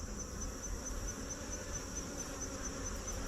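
Honey bees buzzing at an open hive during fall feeding and oxalic acid treatment, a steady dense hum that stays even and moderately close throughout, with no voices.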